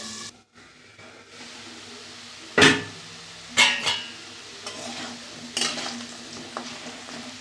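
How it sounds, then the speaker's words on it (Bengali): Potato pieces frying in a pan, sometimes covered, and stirred now and then: a soft sizzle broken by several loud, brief scraping bursts of the spatula. "একটু ডেকে ডেকে ভাজবো, তাড়াতাড়ি হয়ে যাবে।"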